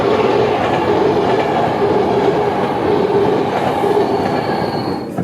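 Train passing a level crossing with the barrier down, somewhere between Romania and Poland: loud, steady rumble of rail cars rolling by close at hand, with wheel squeal and faint clickety-clack, no voices.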